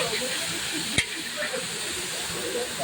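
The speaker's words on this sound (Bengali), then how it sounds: "তারপর এখন ভালো করে একটু কষে নেওয়া হচ্ছে।" Carrots, beans and beetroot sautéing in a pan for a vegetable chop filling, giving a steady soft sizzling hiss throughout with one brief sharp tap near the start.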